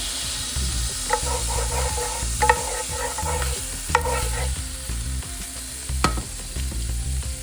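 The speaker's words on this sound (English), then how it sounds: "That was more sputtering than I'm used to." Hot oil sputters and sizzles in a pan while cooking meatball stroganoff, with a stirring spoon tapping and scraping in bursts over a constant frying hiss, close and fairly loud.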